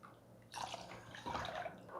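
Water is poured into coconut milk in a pot when preparing rice, heard as a soft, close splashing trickle that starts after a short quiet moment and continues in two faint bursts.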